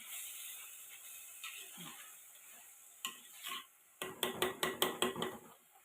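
Tomato sautéing in a pan, a faint sizzle underneath as a spoon stirs and scrapes in a quick burst of repeated knocks toward the end; no talking.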